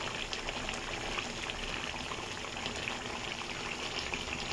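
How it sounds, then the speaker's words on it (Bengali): Ghee poured into a cooking pot of spiced food, a steady soft liquid pour and sizzle running continuously at moderate level with no talk. "আর একটু ঘি দিয়ে দেবো বন্ধুরা"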